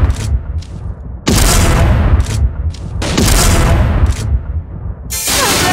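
Sniper rifle fire in a mobile shooter game, loud booming shots in separate bursts with sharp onsets and long noisy tails, some quieter clicks between them, close and dominant with no speech.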